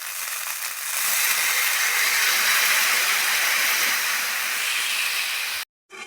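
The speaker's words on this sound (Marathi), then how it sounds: "आपण बगरीचे डोसे करून घेऊ." Barnyard millet dosa batter, blended with green chillies and raw potato, sizzles on a hot pan with a loud, steady hiss that ends abruptly near the close.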